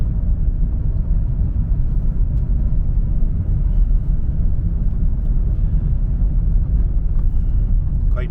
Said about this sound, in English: traffic's looking like it would normally look on a Saturday morning